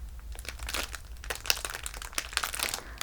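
Plastic bag crinkling up close, a steady stream of crisp rustles and crackles with no talking.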